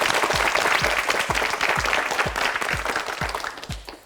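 A studio audience at a Korean TV quiz show claps in a full burst of applause, with a steady rhythmic beat running under it, fading slightly toward the end.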